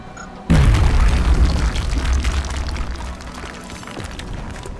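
A frag grenade in the turn-based game XCOM Long War goes off with a single loud, close boom that hits suddenly and then decays into a long rumbling, debris-like tail fading over several seconds, with no talk.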